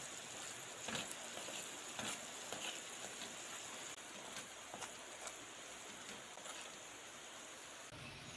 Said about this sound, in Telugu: నూనెలో బాగా ఇలా తిప్పుకుంటూ బాగా వేగించుకోవాలండి